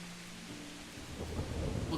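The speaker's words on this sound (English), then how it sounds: "Well, the rain is nice." Thunder rolls in a rainy scene in the video game Kingdom Come Deliverance, a low rumble swelling over steady rain hiss, growing louder toward the end.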